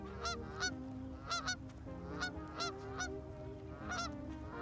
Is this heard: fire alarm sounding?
no